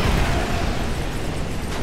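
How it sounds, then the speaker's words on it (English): Explosions and gunfire from the Homefront video game fill the whole stretch as a dense, loud, continuous roar of blasts and bursts, with no clear pauses. "as they shout at you incoherently amongst all the explosions and gunfire"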